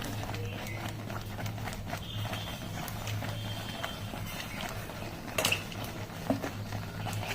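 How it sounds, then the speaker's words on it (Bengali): Raw mango pulp for sweet-sour amsotto stirred in a pan, heard as a soft, continuous scraping and clinking of a spoon against the pan at close range, with a low steady hum beneath and a couple of sharper knocks. "আবার নেড়ে চেড়ে নিতে হবে। সবসময় কিন্তু এটা নাড়তে থাকতে হবে, নাহলে চিটিয়ে যাবে।"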